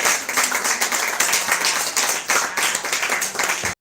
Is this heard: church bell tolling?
no